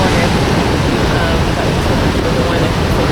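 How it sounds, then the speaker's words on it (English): Huge ocean waves crash and surge over a resort's natural seaside pools, a steady loud roar of surf and spray with no break, close by and filling the whole scene. "The natural pools are totally overrun with the waves."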